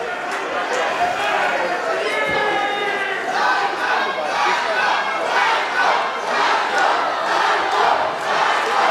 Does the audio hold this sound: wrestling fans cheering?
yes